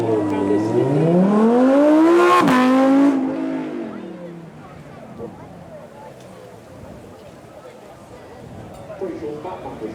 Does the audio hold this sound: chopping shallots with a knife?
no